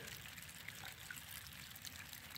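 Spring water running out of a PEX pipe in a spring-fed house water system, a steady soft trickling rush with a continuous hiss and no pauses, moderately close.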